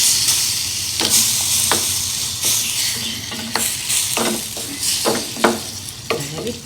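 Tomatoes sizzling in a pan while being stirred, a steady frying hiss broken by repeated scraping clicks of the spoon, close and alone.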